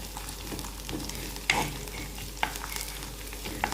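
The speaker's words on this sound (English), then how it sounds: "Fry till the onions are translucent and the garlic and ginger also have fried lightly." Onion, garlic and ginger fry in oil with popped mustard seeds while being stirred. A continuous close sizzle is marked by a few sharp spoon clicks against the pan.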